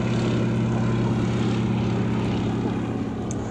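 A Fairey Swordfish propeller biplane flies at an air show, its engine drone loud, steady and continuous with a strong low-pitched hum throughout.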